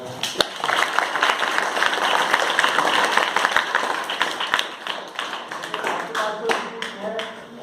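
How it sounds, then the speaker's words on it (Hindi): Audience at a global-warming awareness gathering bursts into sustained, dense clapping that fills the room, then tapers into scattered claps with voices talking. "ताली बजाओ"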